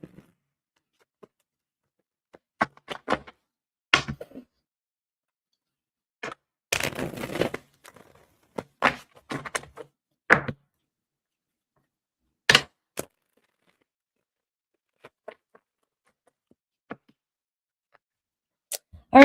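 Tarot cards shuffled by hand during a reading, heard as a scattered series of short crisp riffles and taps, with a denser burst of shuffling in the middle, close and alone with no talking.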